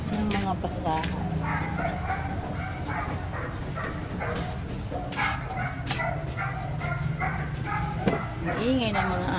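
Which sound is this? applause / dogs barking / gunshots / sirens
dogs barking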